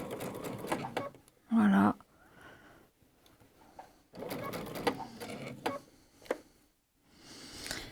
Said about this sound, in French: On peut coudre tranquillement, normalement.